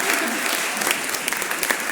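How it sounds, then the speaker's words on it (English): Audience applause for a violinist at a Sunday church service, a steady dense patter of clapping from a crowd. "give a round of applause to our violinist for the day, Annabelle Lynch."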